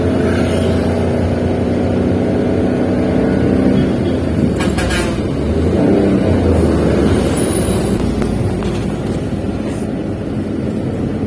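A car cruises between cities on an open highway, a loud, steady engine and road-noise drone filling the cabin without pause, with faint intermittent clicks and rattles riding on top.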